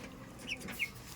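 Chickens cluck softly nearby while eating, two short calls over a low, steady background murmur.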